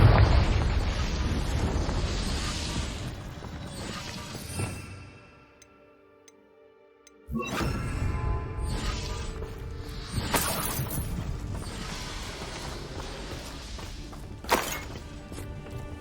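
Confringo spell explosions in Hogwarts Legacy, rumbling blasts and shattering bursts that fade into a near-silent gap before loud impacts return, with a sharp crack near the end and no talk.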